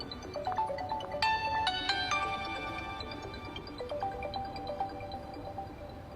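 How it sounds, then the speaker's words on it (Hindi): A mobile phone rings in a shop with a bright electronic melody of repeated tonal notes, steady and moderately loud against a faint background, with no talking. "मैडम, आपका फोन बज रहा है।"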